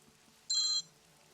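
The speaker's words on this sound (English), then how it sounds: "oh, sorry, I'm getting a phone call here." A short electronic phone ringtone sounds once for an incoming call, a brief bright tonal burst over a quiet room.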